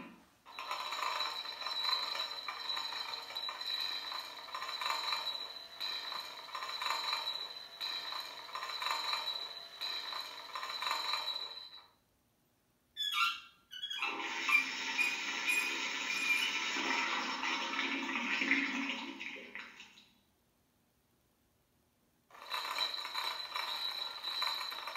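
An MTH operating water tower accessory for a model train layout runs with a steady mechanical whirring rattle, stops briefly, starts again with a broader buzzing, then resumes its original hum, close and with no talk.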